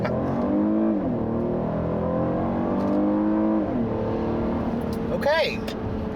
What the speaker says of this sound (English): because my model is front-wheel drive, you heard there's a little bit of wheel spin